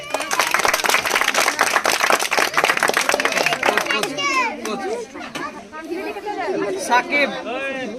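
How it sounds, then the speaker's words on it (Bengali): Children clap in dense, rapid applause for a prize winner at a village game of stacking nuts, then the clapping gives way to loud, excited children's chatter and shouts. "সবাই হাততালি"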